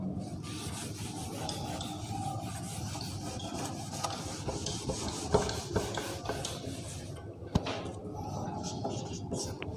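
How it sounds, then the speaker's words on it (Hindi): An eraser rubs back and forth across a classroom board, giving a continuous close scratchy rasp with a few sharper knocks and no talking. "चलो रब कर रहा हूँ।"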